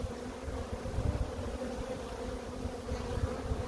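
Dense, even buzzing of honeybees inside an open hive that lost its queen and is being requeened, a thick steady drone heard up close and filling the whole space without voices.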